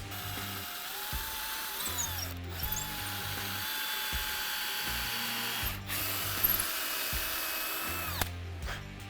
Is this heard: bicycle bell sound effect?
no